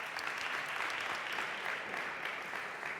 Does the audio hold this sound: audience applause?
yes